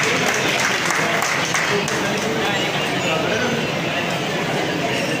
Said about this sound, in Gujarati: તાળીઓથી આપણે ધૈર્યરાજસિંહને વધાવીએ.